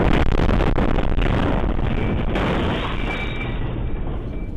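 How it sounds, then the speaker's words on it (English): Loud blast from an RV bomb detonating in downtown Nashville on Christmas morning, a sustained roaring rumble with a sharp onset that slowly fades, no voices. "That is the sound of sheer terror in the magnitude of that explosion."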